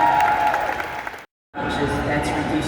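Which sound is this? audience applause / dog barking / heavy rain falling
audience applause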